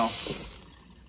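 Hot water running from a kitchen tap while a dishwasher is being fixed, a steady hiss of flow that is loud at first and eases slightly toward the end.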